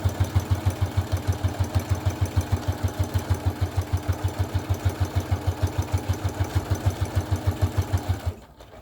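A sewing machine stitches fabric for a wallet in a fast, even, thumping rhythm that runs steadily at close range for about eight seconds, then winds down and stops.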